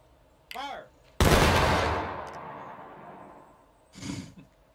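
A loud musket volley in War of Rights, one massive blast with a long rolling echo, preceded by a shouted command and followed by another voice.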